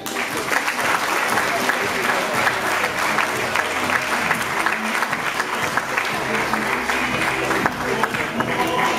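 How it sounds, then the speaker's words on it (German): Crowd applause follows a split-decision win at a professional boxing match, dense continuous clapping that stays loud and even throughout, with a few voices mixed in. "Applaus"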